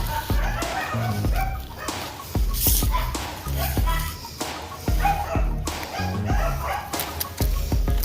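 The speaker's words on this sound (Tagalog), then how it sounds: "Pagkaingay ng mga aso." Several dogs barking repeatedly in sharp, irregular bursts, fairly close, with a person's voice mixed in among the barks.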